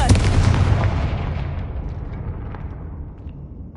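The Confringo fire spell bursts in Hogwarts Legacy with a loud, close explosive boom whose rumbling tail fades steadily over a few seconds.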